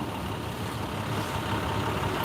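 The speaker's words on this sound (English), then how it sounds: "So, wreckers here. And it's just going to sit there and idle until they're ready to bring them in" A tow truck wrecker idles at a nighttime head-on collision scene, its engine a steady, low rumble that holds even and continuous throughout with no voices.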